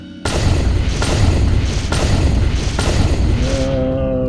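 Gunfire aimed at a boss in the video game Dark Dreams: loud, booming shots repeat roughly once a second in a steady barrage, with a brief tonal chime near the end.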